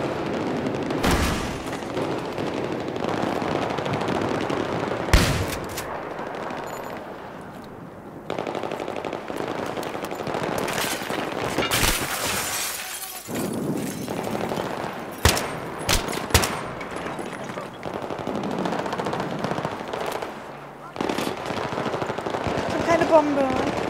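Machine-gun fire in the Battlefield 3 campaign: several bursts of rapid automatic shots and sharp single cracks, some loud and close, scattered across a tense stretch with voices talking in between.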